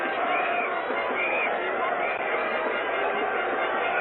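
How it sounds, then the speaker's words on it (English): Cricket crowd surging onto the pitch at Lord's after the 1975 World Cup final between West Indies and Australia, a continuous roaring babble of many distant voices, muffled and dull like an old broadcast recording. "And the crowd gathering in there now, mobbing over the pitch."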